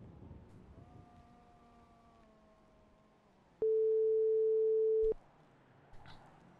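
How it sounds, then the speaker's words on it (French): A FaceTime video call rings out as a single steady electronic tone lasting about a second and a half, loud and close, following a quieter stretch of low background noise. "Attends, je t'appelle en FaceTime."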